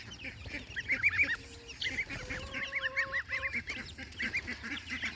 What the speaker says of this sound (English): See how big the geese are